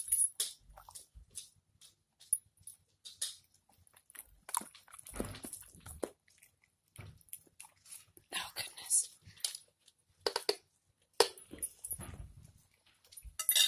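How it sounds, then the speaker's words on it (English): A dog chews and bites at sauerkraut up close, wet intermittent smacking and crunching bursts spread irregularly across the stretch, with soft shuffling in between and a quiet voice now and then. "My dog is eating sauerkraut."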